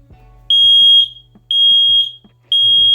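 A Kidde i9010 smoke alarm beeps under test: three loud, piercing, evenly spaced tones, each about half a second long, with short gaps of quiet between them.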